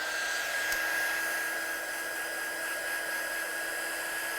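A hair dryer blows steadily on a painted craft model for the whole stretch, a loud, even whoosh with a constant high whine and no talk over it.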